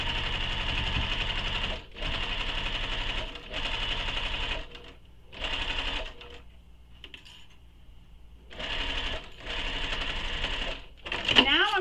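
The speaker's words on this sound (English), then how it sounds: "I'm just going to stitch all the way up the side." A sewing machine stitches up the side seam of a fabric sling pack in bursts of steady rapid whirring, pausing between runs, with a faint voice and a small clatter near the end.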